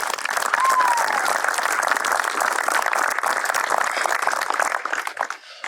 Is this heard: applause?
yes